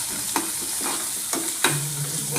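Chopped onion fries in oil for a fenugreek seed curry. A soft continuous sizzle runs under several distinct knocks and scrapes of a spatula stirring the pan, heard up close without voices.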